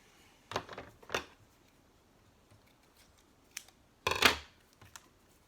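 Scissors snip through material for a Cinco de Mayo wood sign craft, giving two quick cuts early, a faint one in the middle, then a sharper, louder snip near the end, all close by and with no talking.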